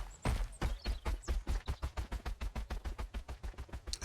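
Footsteps in the survival video game Mist Survival: a quick, regular run of hard, thudding steps, about six per second, loud and close and steady in level for several seconds.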